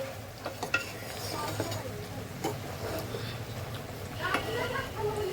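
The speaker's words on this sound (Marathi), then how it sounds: "परत आपण बटर टाकूया मिक्स करून घेऊया" Seafood and butter stirred in a hot pan, with repeated scraping strokes and utensil taps over a continuous sizzle, up close, and a voice speaking at times.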